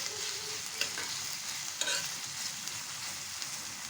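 Onions frying in a pan give off a soft, steady sizzle, broken by a few light stirring scrapes and taps, quiet and close, with no voices.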